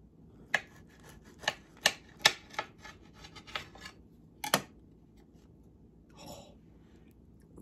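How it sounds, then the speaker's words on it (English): A knife cuts into an apple-stuffed waffle, giving a run of crisp crunches and scrapes as the blade breaks through the browned crust, close up with short pauses between strokes. "Let's cut it open."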